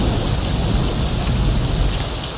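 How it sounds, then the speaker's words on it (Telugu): Heavy rain pours steadily onto surfaces, a dense, loud, continuous hiss with a low rumble beneath and no voices. "ఏమిటో ఈ వర్షం మ్యాచ్ ప్రాక్టీస్ చేసుకోవడానికి లేకుండా తగ్గిపోతుందిలేండి"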